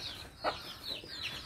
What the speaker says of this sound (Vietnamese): Đây gà mái mình ha.